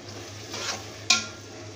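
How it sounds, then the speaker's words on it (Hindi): Beef biryani masala with Bombay biryani masala, garam masala and chilli is stirred in a pot. A soft scrape swells midway, then a sharp metallic clink of the spoon against the pot follows near the end. "मिक्स कर लेते हैं।"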